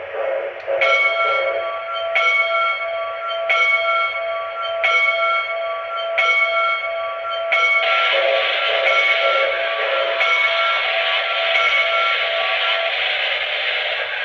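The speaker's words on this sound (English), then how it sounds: "Alright, well, here's the bell." Repeated metallic bell strikes from an MTH Railking Pennsylvania K4 model steam locomotive, ringing in a steady rhythm of about five clear dings. A continuous hissing steam-like noise then takes over and runs loud to the end.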